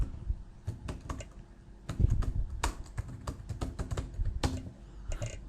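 Fingers type a search query on a computer keyboard in quick, uneven bursts of close, crisp key clicks separated by short pauses, with no voices.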